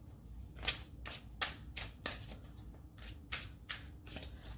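Tarot cards being shuffled by hand, a run of about eight crisp riffling bursts at a steady rhythm, close and fairly quiet with no talking.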